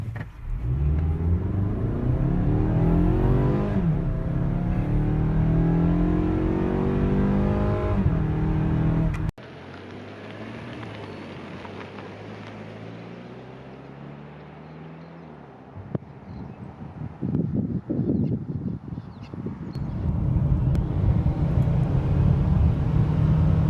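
A 2017 Mazda CX-5 accelerates hard from a standstill to 60 mph, engine rising through the revs with gear shifts, heard from inside the cabin as a loud steady drone and road rumble.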